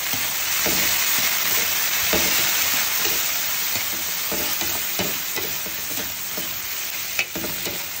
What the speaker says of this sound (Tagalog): lalagay po natin yung corn beef